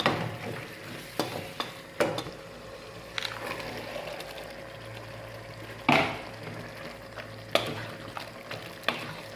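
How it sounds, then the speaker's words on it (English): Beans stirred into a hot pan with garlic for coconut beans, giving a soft steady sizzle broken by several sharper scraping and stirring knocks, close and fairly quiet, with no talking. "So we go in with the beans afterwards and cook for like 4 minutes after that."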